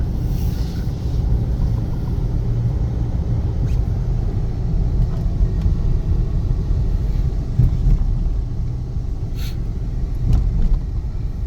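A steady, low engine rumble and road noise from a 2016 Isuzu MU-X SUV on the move, continuous and even throughout with no talking.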